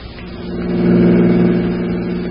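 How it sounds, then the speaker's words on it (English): A car engine in a 1941 radio crime drama sound effect hums steadily and swells as the car pulls up, a continuous mid-pitched drone that builds and then holds, with no talking. "All right, Maul, pull up here."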